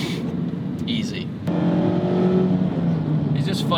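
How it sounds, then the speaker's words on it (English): A Mazda Miata RF's engine gives a low steady rumble with some wind noise while driving, swelling slightly partway through as someone talks over it. "I hear a little bit of wind noise and then just a nice little rumble from the engine"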